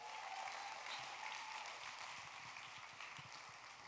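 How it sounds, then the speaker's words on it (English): Audience applause at a charity fundraiser, a dense, steady wash of clapping that holds evenly for a few seconds at moderate distance without any voices. "Let's have a round of applause."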